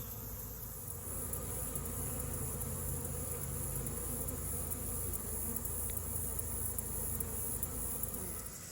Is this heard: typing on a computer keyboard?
no